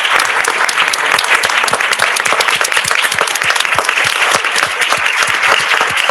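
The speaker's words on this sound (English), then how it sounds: "I want to give every woman that's present here this evening a grand applause" A council meeting audience gives a grand round of applause honoring the women present, dense steady clapping filling the room without a break, close and loud, with no voices standing out.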